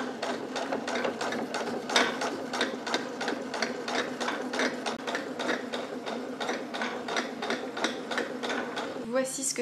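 A domestic sewing machine runs steadily, stitching fabric at a fixed distance while altering trousers for pregnancy, its needle clattering in a fast, even mechanical rhythm up close, with a brief higher rattle near the end.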